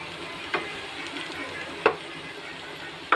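Fried dry spices are stirred in a pan for a hilsa fish curry with papaya and potato, a low sizzle under three distinct scraping knocks of a spatula against the pan, close.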